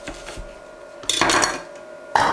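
Garlic is chopped in a pull-string chopper, giving bursts of rattling, whirring clatter in two loud pulls separated by quieter handling knocks.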